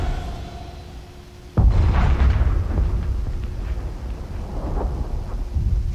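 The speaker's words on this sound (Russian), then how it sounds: "Какой-то был мощный взрыв." A sudden loud explosion in Call of Duty: Advanced Warfare booms in after a quiet hum, followed by rumbling debris and crackling that slowly fades.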